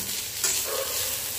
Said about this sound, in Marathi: चला, छान मिक्स करून घ्यायचंय पुन्हा.